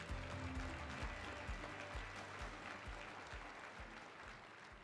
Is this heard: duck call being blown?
no